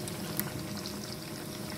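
Fish fingers sizzling steadily in hot oil, a dense, even bubbling crackle close by with no voices.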